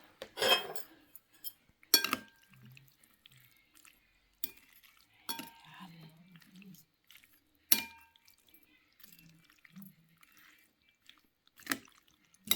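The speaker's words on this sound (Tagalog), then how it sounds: "At saka haluin po natin." A utensil stirs food in a dish that contains peanuts. Scattered sharp clinks and scrapes come in separate bursts with quiet gaps between them, close by and with no speech.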